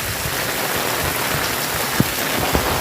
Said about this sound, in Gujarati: બાકી જો વરસાદની મોજ લ્યો તમે